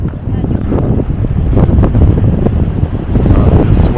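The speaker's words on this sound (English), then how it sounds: "It's windier than I thought, actually. Much windier." Strong gusts buffet a microphone outdoors, a loud, low, rumbling roar of wind noise that rises and falls without letting up, with no one speaking over it.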